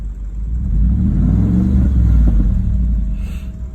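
Audi Q6 with a V8 engine and a customized loud exhaust revs up in one deep, rising rumble that swells to a peak and then eases back, heard close with no talk.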